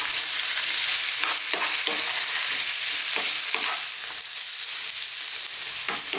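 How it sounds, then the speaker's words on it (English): Bitter gourd frying over lively heat with chili powder and turmeric, a steady hiss of sizzling with repeated scraping stir strokes at an irregular pace, close and continuous. "on this kind of fairly lively heat, stirring all the time now"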